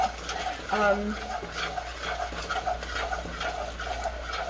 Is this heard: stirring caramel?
yes